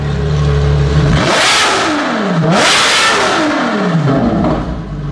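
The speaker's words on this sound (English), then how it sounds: "that was the noise of the LaFerrari blowing the cardboard boxes all over the place behind it" A Ferrari LaFerrari engine revs loudly twice, the pitch climbing and falling in sharp roaring sweeps over a deep idle, close and deafening.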